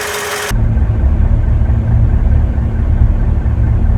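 A Toyota Tundra pickup engine runs at a steady idle, a close, even mechanical rumble with a faint regular tick riding on it, continuing unbroken after a brief burst of other sound at the start.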